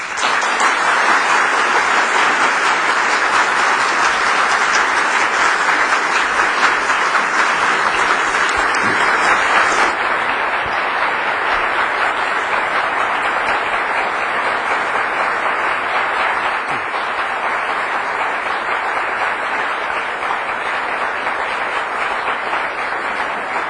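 Sustained, loud applause from a live audience at a discussion of Babbage's Difference Engine, a dense even wash of clapping that runs unbroken for over twenty seconds and eases slightly partway through, with no voices over it.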